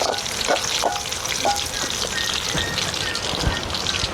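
Oil sizzles and crackles steadily as spices and greens are tempered for a curry, a dense continuous hiss with small pops scattered through.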